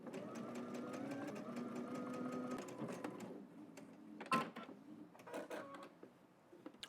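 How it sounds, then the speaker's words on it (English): Sewing machine stitching along a shirt hem, a quiet steady whirring run that stops partway through, followed by scattered clicks and handling knocks. "Let's head to the machine, and we're going to add stitch all the way down to the hem."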